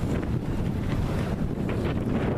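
A sailboat under sail heeled about 15 degrees on the way home, with steady wind rushing across the microphone and water washing along the hull, continuous and close, no voices.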